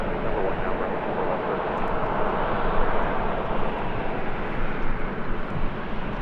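American Airlines Boeing 787-8 Dreamliner, a heavy flight arriving at LAX from Tokyo Haneda, gives a steady, loud, broadband jet roar that holds evenly throughout without fading or breaks.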